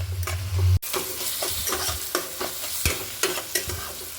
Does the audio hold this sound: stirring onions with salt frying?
yes